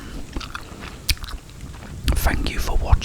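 Binaural gum chewing close to the ears, with wet smacks and sticky clicks in an uneven rhythm, growing busier toward the end, over a faint rain-like hiss and with a little soft whispering.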